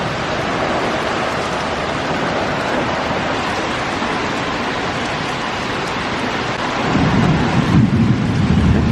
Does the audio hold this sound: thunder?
yes